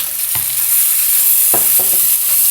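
Chicken pieces fry in a pan on a portable gas stove, with a loud steady sizzle broken by a few close stirring scrapes, and no talking.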